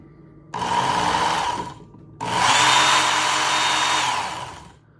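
A Work Sharp Ken Onion Edition electric knife sharpener runs in two bursts on the medium belt, a short one and then a longer one, as a blade is sharpened, with a steady motor whine and a grinding hiss, close by and loud.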